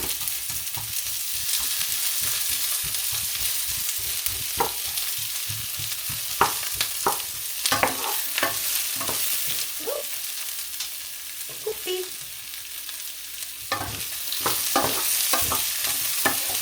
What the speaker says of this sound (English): so I'm going to add the onion